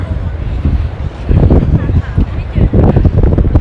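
Strong wind buffets the microphone at an outdoor secondhand market selling motorcycle parts and tools, rough gusty rumbling that swells and fades in bursts while someone talks over it.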